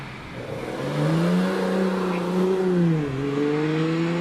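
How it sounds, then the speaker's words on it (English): A Jaguar E-Type climbing a hill climb course, its engine revving loudly through rising gear sweeps, briefly dipping at a gear change before pulling hard again, fairly close and without talk. "The E-Type now on his way up the hill then in the hands of Paul Slade."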